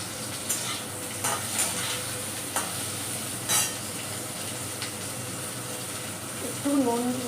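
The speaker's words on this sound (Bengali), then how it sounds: "একটু নুন দিয়ে ভাজবো" Vegetables fry in hot oil for Bengali dudh shukto, with bitter gourd, lentil dumplings and eggplant among them, giving a steady sizzle with a few scrapes of stirring. A voice speaks briefly near the end.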